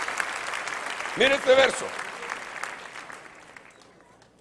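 A church congregation applauds for about a second amid a fervent service, the clapping rising under a preacher's ongoing Spanish speech and then fading as he keeps talking.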